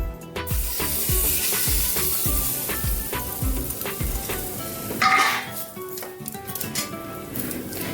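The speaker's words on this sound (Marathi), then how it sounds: "हे बघा, आता ही फोडणी केलेली यात घालून घेऊयात आपण" A sharp sizzle flares as hot tempering oil is poured into a raw mango dish, followed by rhythmic spoon scraping against a pan and a hissing burst near the middle.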